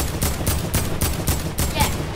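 Rapid gunfire in the Fortnite video game comes as a string of about eight evenly spaced, loud, punchy shots in just over two seconds, with faint voices beneath.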